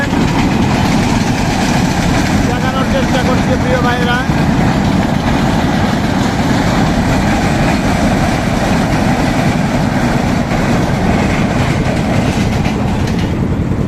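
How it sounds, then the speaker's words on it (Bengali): A train rolls past close by while a boat travels alongside, making a loud, steady rumble with rhythmic clickety-clack, and someone talks over it. "অন্য দিক দিয়ে ট্রেন চলে যাচ্ছে"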